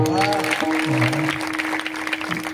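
An audience claps for the girls at a Marathi kirtan, a sustained patter of hands blended with droning musical tones and a voice throughout.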